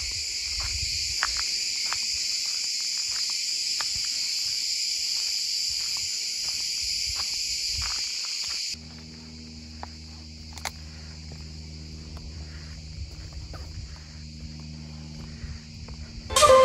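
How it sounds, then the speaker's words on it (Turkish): Crickets chirp in a dense, continuous high trill at the ancient ruins of Priene, loud and steady at first, then thinning out under a low outdoor rumble with faint scattered ticks. "Bu cırcır böcekleri de muhteşem."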